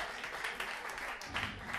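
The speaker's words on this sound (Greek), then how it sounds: "Ένα χειροκρότημα" Short burst of applause at a karaoke night, a small group clapping irregularly and fairly quietly, with uneven bursts rather than a sustained roar.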